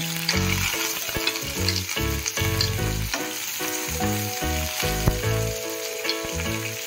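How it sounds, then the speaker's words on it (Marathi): Green chillies and curry leaves crackle and sizzle in a spoonful of hot oil for egg bhurji, a close, steady frying hiss heard under prominent background music. "आता मिरची टाकत आहे। कढीपत्ता टाकत आहे।"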